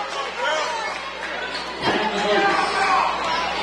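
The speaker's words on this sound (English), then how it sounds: "Crowd still not happy with the call." A crowd at a varsity boys' high school basketball game murmurs and chatters in displeasure over a referee's call, a steady indoor din with a brief swell of noise partway through and voices talking throughout.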